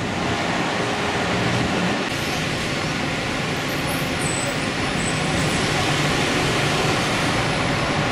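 A Genoa metro train rumbling steadily beneath the Sopraelevata near Arsenale station, a continuous loud broadband roar of wheels and motor with a faint high whine, no voices.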